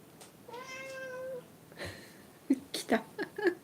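A cat meows with a drawn-out, wavering cry, followed by several short, sharp chirping meows in quick succession, fairly close during a quiet early-morning sashiko stitching session.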